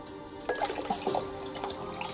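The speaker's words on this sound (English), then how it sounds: "Come on, drink some water with me." Water splashes and trickles indoors, close by, in a few short gurgling bursts, as if it is being poured or drunk.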